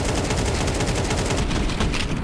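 Rapid automatic gunfire sprays in Counter-Strike during an IEM Dallas 2025 esports match: a loud, dense, continuous stream of gunshots with no pauses across the whole burst.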